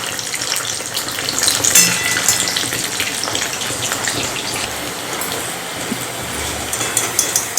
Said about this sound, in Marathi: म्हणून मी तळून घेते तळ्यामुळे या मुटक्यांची चव आणखीनच वाढते